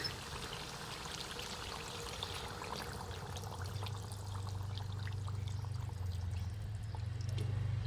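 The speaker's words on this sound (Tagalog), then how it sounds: "Lagyan natin ng tubig." Water is poured into a pan of sweet-and-spicy pork belly adobo while it cooks, a steady pouring splash that deepens into a fuller, louder low gush partway through, with no talking.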